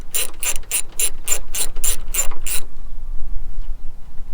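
A hand ratchet loosens a 10 mm bolt on a Ford Mustang hood, giving about nine quick, close, loud clicking strokes in an even rhythm, then falling to quiet background.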